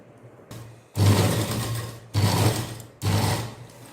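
A sewing machine stitches piping on a blouse in three close bursts of whirring stitching separated by brief pauses, with a low motor hum underneath.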